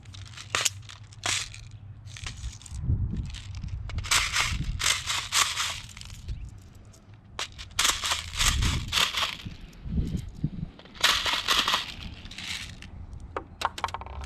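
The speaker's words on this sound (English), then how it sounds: "Start by putting .20 BBs in the magazine." Small .20 plastic BBs clatter and click into a Colt airsoft pistol magazine in repeated rattling bursts, with close handling noise and short pauses between pours.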